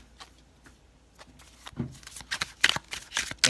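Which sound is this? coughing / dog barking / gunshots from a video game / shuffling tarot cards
shuffling tarot cards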